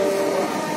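A Bengaluru metro train running on its approach to Nagasandra, heard from inside the car as a steady, loud rumble with a constant hum and no voices.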